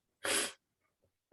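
A single sharp, breathy sneeze bursts out close by, followed by silence and the start of a faint voice.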